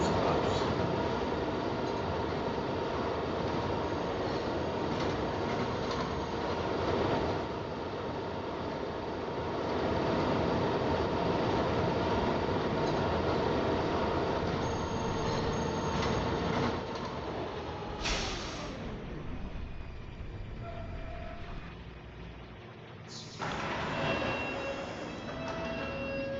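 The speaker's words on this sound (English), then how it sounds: "This is a Catlin-bound R local train." A Catlin-bound R local subway train in a video game rumbles along the track with steady rolling noise and wheel clatter, then slows with squeals and hiss near the end, loud and continuous.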